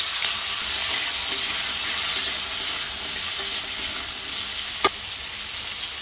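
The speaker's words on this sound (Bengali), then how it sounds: "এবার দিয়ে দিচ্ছি কচু আর আলু" Taro and potatoes frying in hot oil with dried and fresh green chillies give a steady, dense sizzle throughout, close and fairly loud, with a few faint clicks and one sharp tap near the end.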